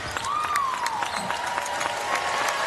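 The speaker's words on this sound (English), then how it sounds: "Round of applause starts to rain down here at Pauley" Crowd at Pauley Pavilion applauding during a UCLA women's basketball game against Ohio State, sustained clapping under a commentator's voice, with the arena mix carrying faint crowd noise.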